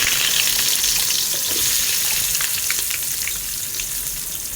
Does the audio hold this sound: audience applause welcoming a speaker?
no